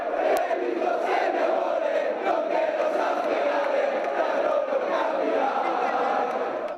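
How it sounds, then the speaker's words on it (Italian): Thousands of basketball fans packed before a big screen at Porta San Tommaso in Treviso roar with joy as the team wins promotion to Serie A, a dense, loud, sustained crowd cheer with shouts and whoops throughout. "esplode l'urlo di gioia dei tifosi"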